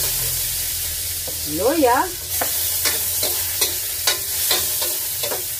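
Garlic and onion sauteing in oil in a pan, a steady sizzle broken by repeated sharp scraping strokes of a spatula, with a short burst of a voice early on.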